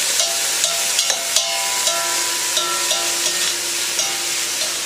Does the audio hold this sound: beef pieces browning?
yes